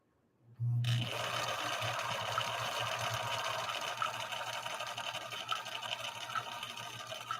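A Viking 6020 sewing machine stitches a dense yellow sunburst pattern on Cam C with its needle and tri-motion feed, running as a steady close mechanical whir that starts abruptly and carries on without pause, with no talk over it.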